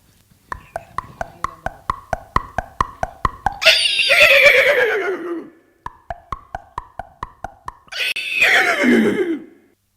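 A person vocally imitates a horse: rapid tongue-click hoofbeats build into a loud, falling whinny as the horse is pulled up short, and the gallop-then-neigh pattern repeats twice.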